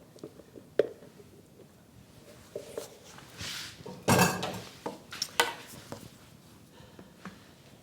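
Cranberry orange relish being folded into apple bread batter in a bowl: soft, irregular scraping and clinking of a utensil against the bowl, quiet and close, with a few louder knocks.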